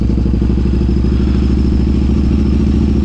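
A motorcycle engine rumbles loud and close with a steady low throbbing pulse and no clear rise or fade, with no voices over it.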